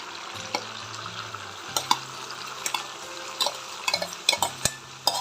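Rice stirred in a pan with a spoon, producing scattered scraping clicks and soft sizzling, getting busier toward the end.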